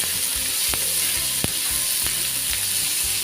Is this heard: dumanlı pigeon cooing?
no